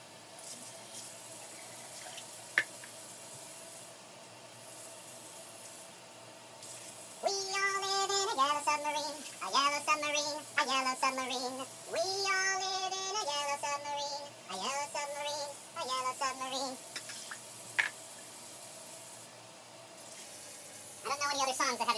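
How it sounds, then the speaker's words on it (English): Tap water runs steadily into empty sauce cans while preparing an Italian-style dinner, a soft continuous hiss beneath a voice that hums or sings in the middle. "take each one of these cans and fill them once and a half with water"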